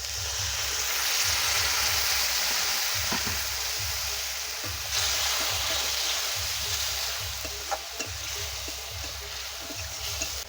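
Spices and turmeric sizzle and fry steadily in hot oil after a splash of water goes in, a continuous close crackle with a few sharper pops and stirring scrapes for a Bengali river fish curry.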